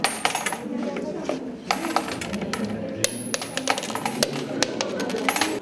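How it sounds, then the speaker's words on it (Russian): Kopeck coins of various denominations clink and jingle as adults and children drop them into a shared collection box, a steady run of bright metallic chinks with murmuring voices around them. "Копейки разного достоинства из рук взрослых и детей со звоном падали в общую копилку."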